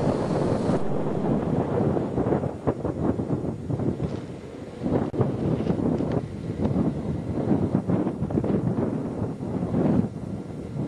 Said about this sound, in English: And as you can probably tell, the wind is really blowing.